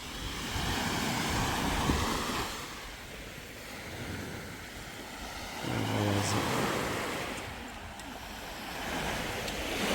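Sea waves wash onto a Sardinian resort beach in the early morning, with a steady rushing surf and wind rumble that swells and eases in broad waves, no speech.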